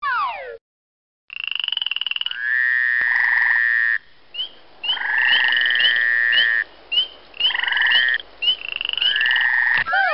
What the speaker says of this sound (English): Click on the chorus frog, bullfrog, gray tree frog, or spring peeper to really get this place hopping.